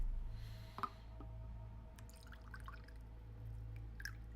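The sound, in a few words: rum being poured into a shot glass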